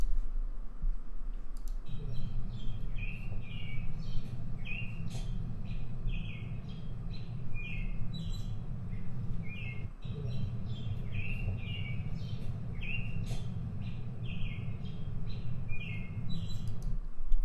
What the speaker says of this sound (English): those are birds singing at the White House